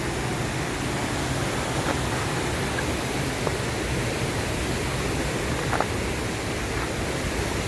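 Thommankuthu waterfall in Idukki roars with a dense, steady rush of falling water, loud and unbroken, with only a couple of faint clicks poking through.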